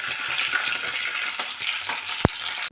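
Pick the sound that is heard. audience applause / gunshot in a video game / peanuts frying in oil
peanuts frying in oil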